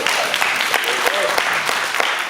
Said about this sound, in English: Yebo, you can clap for that.